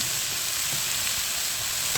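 String beans and eggplant frying in a pan for a vegetable dish, with a steady close hiss and sizzle and a few soft stirring knocks, no talking.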